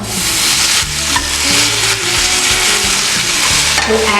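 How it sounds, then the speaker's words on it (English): Sauce poured onto a hot veg sizzler plate loaded with paneer pepper garlic rice, stir-fried vegetables and fries, hissing in a loud, continuous close-up sizzle that covers the whole moment. "Finally, I'm going to drizzle in the sauce that we have prepared. Look at the sizzling sound."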